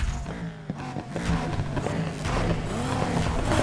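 Race cars accelerate in the video game Need For Speed Heat, with a Dodge Viper among them. Loud, rising engine revs and gear changes sound close by, with faint tire noise and a steady roar building toward the end.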